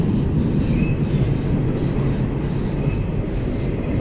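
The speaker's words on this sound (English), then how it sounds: "The train's above us." A train runs on a railway bridge directly overhead at Sandy Hook Road in Maryland: a loud, steady low rumble and roar of rolling cars fills the whole stretch, with faint metallic squeals above it and no talking.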